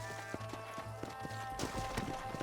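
Horse hooves clip-clop at a quick, steady gait in the Western video game Red Dead Redemption, with a continuous game soundscape behind them.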